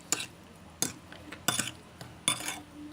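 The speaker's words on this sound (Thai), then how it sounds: "ใส่น้ำปลาไปครับคลุกเขาครับ" A spicy sour Thai salad of bak kho being tossed with fish sauce, giving four short clinking, scraping bursts of a utensil against a bowl at a steady rhythm, close and fairly quiet, with no talking.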